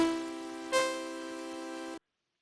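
Four oscillators in VCV Rack sound a polyphonic synth chord, a steady buzzy electronic tone with a brief swell partway through, holding for about two seconds before cutting off abruptly into silence.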